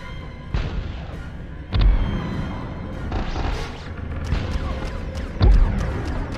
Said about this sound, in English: They're bombing the fuck out of me!